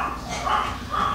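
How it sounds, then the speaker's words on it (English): Dogs barking and yipping indoors, a couple of short bursts at moderate distance, with household background noise. "y'all hear my crazy dogs?"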